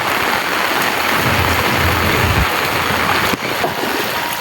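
Rain falls steadily over a village, a dense, loud wash of drops on surfaces with no pauses and no voices.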